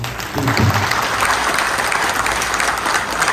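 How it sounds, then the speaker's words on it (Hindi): A meeting audience of LIC insurance agents claps loudly for a speaker's mother, a full, steady burst of clapping throughout with a brief voice near the start. "इसलिए मेरी माँ के लिए एक बार जोरदार ताली बजाओ।"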